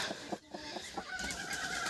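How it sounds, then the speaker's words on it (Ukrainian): A brooding hen sits on mixed eggs in a farm setting, giving soft, close clucks in a short, irregular series. "І ще ж у мене сидить ось тут квочка"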